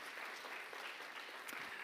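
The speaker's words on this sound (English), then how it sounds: "Big round of applause there." Applause from the audience at a university startup showcase, a brief, continuous patter of many hands clapping at fairly low level without a break.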